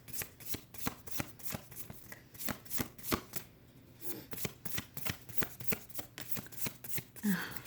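Tarot cards riffled and shuffled in quick, steady close-up bursts with crisp rhythmic flicks, a few pauses where cards are drawn from the deck, no talking.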